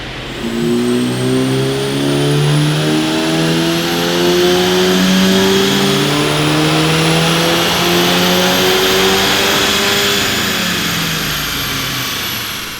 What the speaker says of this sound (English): We're gonna dyno it now.